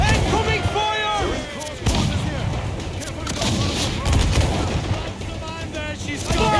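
Ship cannons firing during a naval battle in the video game Assassin's Creed Black Flag, heavy booms and blasts over a dense roar of battle, with crew voices shouting orders throughout.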